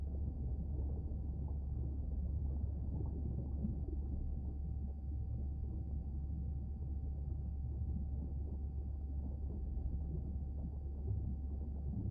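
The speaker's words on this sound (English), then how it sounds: "The hydrophone feeds are alive with the sounds of whales." Whale song from hydrophone feeds in Beyond Blue, low moaning calls over a constant deep underwater rumble with a faint steady hum, continuous and without speech.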